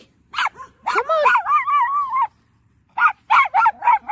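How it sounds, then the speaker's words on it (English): Several dogs loose outdoors in the countryside bark and whimper up close, with a drawn-out whining yelp followed after a pause by a run of sharp, quick barks. "some of my mom's dogs got out"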